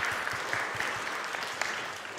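A crowd at a school awards ceremony applauds steadily, a dense wash of many hands clapping at once, fairly loud and sustained throughout.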